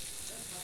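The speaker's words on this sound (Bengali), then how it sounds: "তাই মেয়েকে ভাত ভাজা করে দিচ্ছি" Rice stir-fried in a pan with capsicum, peas, chilli, egg, biryani spice and tomato sauce, giving a steady, close, even sizzle with no distinct breaks.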